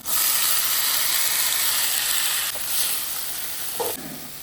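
Washed moth bean sprouts go into a hot pan with oil and turmeric, raising a loud, steady steaming sizzle that eases slightly partway through, with a couple of soft stirring sounds and no talking.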